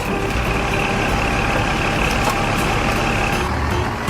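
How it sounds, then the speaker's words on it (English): A recycling truck's engine runs loud and steady up close, with reversing beeps over the continuous rumble and no voices. "I'm the recycling truck. I can handle all that stuff."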